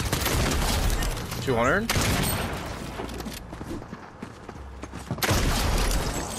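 Rapid gunfire in Fortnite, loud close bursts of shots at the start and again near the end, with a quieter stretch between and a voice talking over the action.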